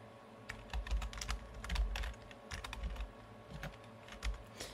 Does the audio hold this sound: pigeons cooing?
no